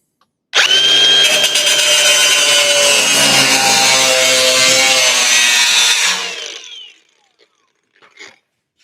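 A power tool cuts sheet metal for a car fender, screaming loud and continuous for about six seconds before winding down, with a faint clatter afterward.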